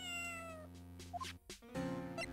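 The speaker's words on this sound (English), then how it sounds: "Freaking cat." Cat meowing in the Phoenix Wright: Justice for All video game, a few clear drawn-out meows alone over a steady background music bed.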